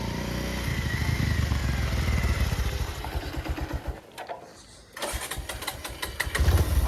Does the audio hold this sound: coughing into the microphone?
no